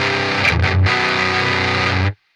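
Electric guitar through a Harley Benton Extreme Metal distortion pedal, heavily saturated and over-boosted so the tone sounds almost broken, playing a sustained chugging chord for about two seconds before cutting to silence.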